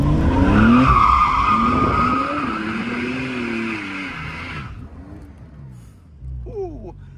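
A 500 hp Porsche 911 spinning with its tires skidding, a loud sustained screech under revving engine that cuts off abruptly after a few seconds, followed by quieter rumbling and brief talk.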